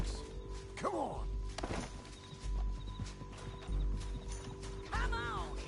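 Horse hooves clip-clopping at a steady walk in the Red Dead Redemption 2 video game, moderately close, with a horse whinny and occasional thuds, under intermittent talk.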